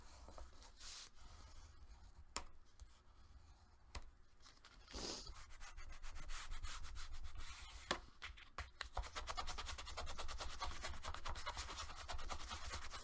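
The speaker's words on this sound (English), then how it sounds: "And burnish." Paper for a handmade mini album is burnished with a tool, producing soft, continuous rubbing and scraping strokes, close and quiet, with occasional light taps and no speech.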